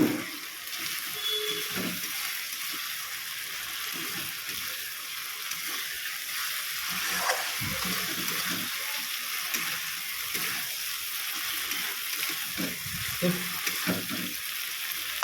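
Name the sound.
katla fish frying in spice paste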